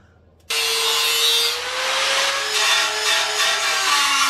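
After a brief quiet start, a carbide burr bites into metal to grind out holes, a sudden loud high-pitched whine that runs on steadily with slight pitch drift and fluctuating intensity.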